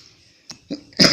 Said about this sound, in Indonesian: Maaf, saya agak batuk karena banyak ngerokok mungkin.